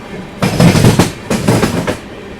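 Lucknow–New Delhi superfast express running through Roza Junction, two loud close bursts of rhythmic wheel clatter over rail joints against a steady rolling rumble.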